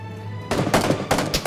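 Loud bursts of gunfire from a shooter video game, several rapid volleys of shots separated by short gaps, with no voices over them.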